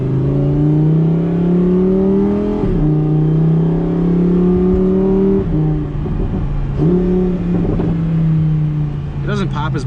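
A Lamborghini Huracán Performante engine drones loudly from inside the cabin, rising and dropping through several revs, with a burst of sharp exhaust pops near the end.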